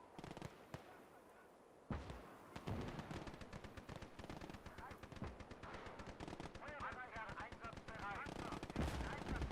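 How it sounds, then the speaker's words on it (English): Dense WWII battle sounds from a real-time strategy game, with American artillery and gunfire crackling in rapid overlapping bursts and booms, loud and continuous, while voices are heard partway through. "Ooh, our American artillery is actually working, though."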